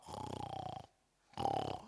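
A human voice imitates loud snoring in two drawn-out rasping breaths, separated by a brief silence.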